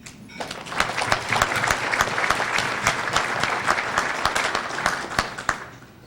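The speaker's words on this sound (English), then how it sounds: "So I'd like you to give yourselves a round of applause" An audience at a university event applauds itself: sustained, dense clapping from a large crowd, close and loud, swelling quickly and tapering off at the end.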